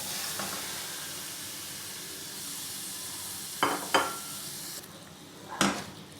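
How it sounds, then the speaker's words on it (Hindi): Chicken with fried garlic and ginger paste and cumin sizzles in hot oil in a pan, a steady close hiss broken by a few sharp scrapes and clinks of stirring. "चले भी लहसुन अदरक फ्राई करके इसके अंदर डाल दें चिकन।"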